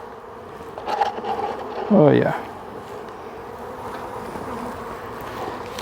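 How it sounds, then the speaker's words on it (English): Honeybees buzz steadily in a low, droning hum, close by at the hive, while a voice briefly speaks over the swarm. "Here's my bees."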